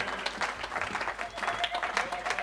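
Church congregation clapping to acclaim the Lord during a worship service, moderately distant applause with uneven claps, voices mixed in.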